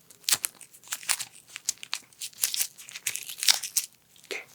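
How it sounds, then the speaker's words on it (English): Medical tape is torn and pressed down over the eyebrows in close, quiet bursts: several sharp rips and crinkles spaced irregularly, with no talking. "I'm just going to tape up your eyebrows right there."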